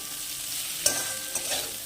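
Salted cauliflower pieces fry in oil in a wok, giving a soft continuous sizzle broken by a couple of quick stirring scrapes.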